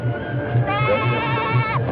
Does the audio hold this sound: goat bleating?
yes